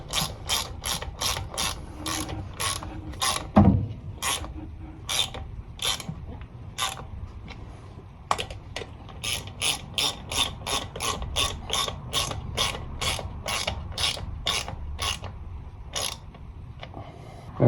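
A hand ratchet clicks in quick bursts while tightening 10mm bolts on the oil pan of a 1988-1992 Toyota Corolla with a 4A-F engine, the crisp close pawl clicks repeating in steady runs with short pauses between strokes.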